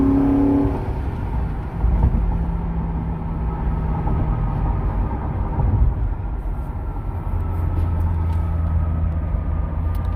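Inside a 2009 Ford Crown Victoria P71 police-package sedan with 157k miles, a steady low driveline and transmission drone rumbles under the center console while driving, with a constant whir and no talking.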